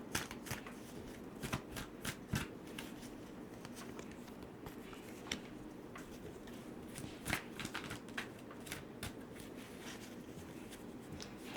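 Tarot cards shuffled and pulled for a pick-a-card reading, giving soft papery riffles and flicks with sharp snaps scattered throughout, close and fairly quiet, with no talking.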